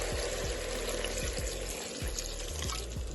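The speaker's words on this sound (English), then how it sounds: "And also let's add some water, just a little bit." A little water poured into a bograch pot where salo, meat, onion and potato are cooking, a steady close splashing and trickling rush with bubbling underneath, lasting a few seconds.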